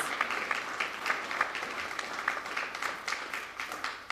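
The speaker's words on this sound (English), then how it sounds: "We need an applause" Applause from an audience at a public meeting about clean drains in Fort Wayne, a steady patter of many hands clapping at moderate distance with no talk over it.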